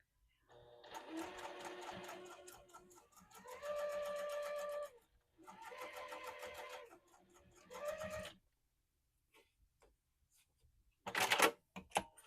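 A sewing machine bastes long stitches at a length of 4 down the side of a Webster Wallet, running in three loud, steady bursts separated by pauses, followed by light handling clicks and a brief rustle near the end.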